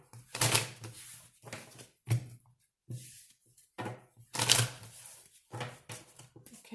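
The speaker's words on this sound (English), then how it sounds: "Let's get 3 more shuffles" Tarot cards are shuffled in several quick riffling bursts, close by, separated by short pauses and soft handling sounds.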